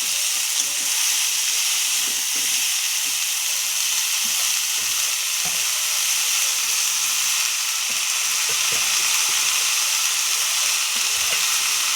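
Spinach frying in a pan with softened, melting tomato gives a steady, close hiss and sizzle throughout, with occasional scrapes and clicks of stirring and no voices.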